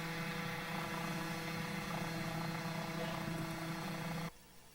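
An autonomous helicopter hovers with a steady, loud engine and rotor drone that holds without a break for over four seconds, then cuts off abruptly near the end.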